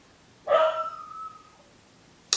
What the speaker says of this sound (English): Somebody tell me why I hear my dog barking now